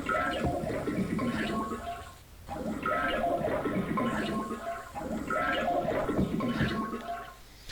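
A toilet flushing in the video game Max Payne, heard three times in a row, each a loud rushing, gurgling swirl of water lasting a couple of seconds with brief gaps between.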